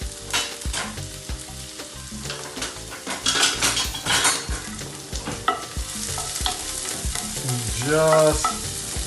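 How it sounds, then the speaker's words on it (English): Red onions saute over medium-low heat in a pan for a frittata, with a steady sizzle broken by repeated stirring scrapes and utensil clatter against the pan, close up, with a single brief spoken word. "We're gonna let this saute until it's translucent."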